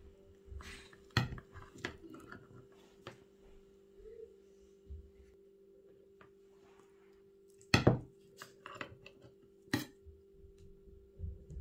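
A knife thuds and scrapes against a board in scattered, irregular cuts through a freshly baked pizza, with a steady low hum in the background.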